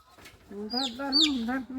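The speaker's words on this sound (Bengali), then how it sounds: "এই যে মোরগটাকে আজকে জবা করবে" Rooster about to be slaughtered at home gives a short, nasal clucking squawk lasting about a second, close to the microphone, with a faint voice in the background.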